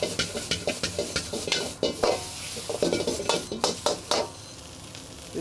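Egg fried rice sizzling hard in a wok while being tossed and stir-fried, with repeated metallic scrapes and clanks of the spatula in an uneven rhythm over a constant close crackle.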